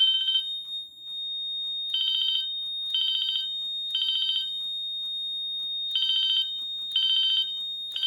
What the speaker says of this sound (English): So that's what it sounds like for bell code 3.